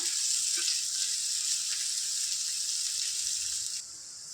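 Two onions and six green chillies fry in a pan toward light golden brown for a chicken masala curry, giving a steady, close, bright sizzle that runs continuously and then drops off near the end.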